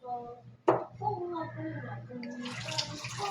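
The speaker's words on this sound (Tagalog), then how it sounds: "Buksan mo yung gripo." Water runs from a tap and splashes into a basin while dishes are washed, starting with a sharp knock and growing hissier, while voices talk nearby.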